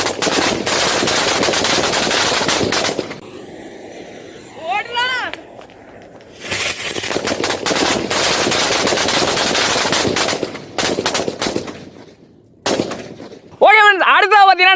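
Strings of naatu vedi and bijili vedi firecrackers explode in long, loud crackling bursts, dense rapid pops separated by short pauses, with whistling rockets and voices heard between the bursts.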